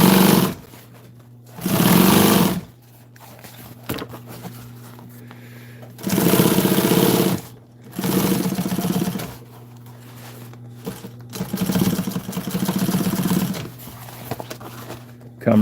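A sewing machine stitches upholstery for an old military jeep seat, running in several loud bursts of a few seconds each with quieter pauses between, a steady mechanical hum beneath.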